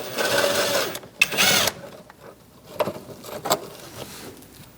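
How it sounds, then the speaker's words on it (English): A 10mm socket turning to remove a bolt on a 2000-2006 Mini Cooper 1.6L, heard as close, rapid mechanical ratcheting bursts with pauses and a few sharp metallic clicks. "You're going to use a 10mm socket and remove this bolt."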